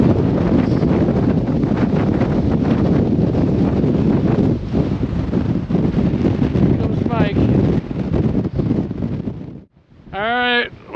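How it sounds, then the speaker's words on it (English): Strong wind roars across a mountain summit on Mt. Katahdin, buffeting the microphone in a continuous loud rush, with a brief lull near the end and a voice heard over it. "Yes, it's windy."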